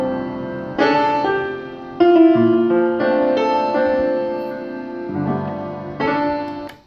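Music plays through a Pioneer SX-580 stereo receiver with flat tone settings, clear melodic notes changing every second or so at a steady, fairly loud level, with no talking.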